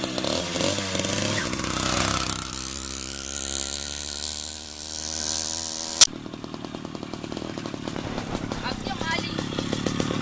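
A small two-stroke Riga 13 moped engine buzzes loudly, then after a sharp click settles into a rough, sputtering idle; voices talk over it.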